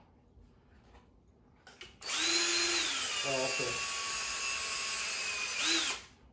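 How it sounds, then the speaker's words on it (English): A power drill whirs loudly and steadily for about four seconds, its pitch dipping under load before winding down; a brief voice comes just before it starts. "I'll have to drill this through again"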